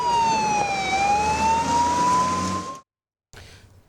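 A fire engine siren wails loudly and close, its tone sweeping down and back up, then cuts off abruptly, followed by a short gap and faint traffic noise.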